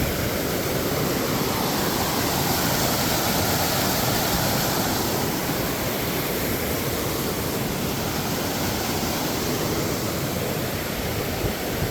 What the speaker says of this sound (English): Crossing over Glacier Creek.